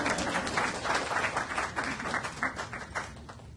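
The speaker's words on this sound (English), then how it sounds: "Clap and get off the stand." An audience at a social workers' annual general meeting applauds, many hands clapping in a close, lively burst that stays fairly steady and then thins slightly toward the end, with no talk over it.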